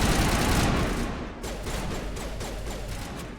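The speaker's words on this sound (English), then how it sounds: "Damn, this assault rifle sucks." Assault rifle fire in the video game Mass Effect rattles in a dense, sustained barrage of overlapping shots with a loud, booming wash, continuing for the whole stretch without speech.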